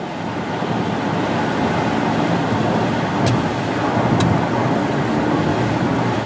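Steady road rumble and tyre hiss fill a car cabin while driving home, a continuous broadband wash with a couple of faint high ticks, no voices.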